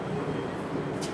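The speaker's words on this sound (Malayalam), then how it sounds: "മെട്രോ എത്തി" A Kolkata Metro train pulls into an underground station, a steady, loud low rumble with rolling wheel noise that fills the whole short moment, with no talk over it.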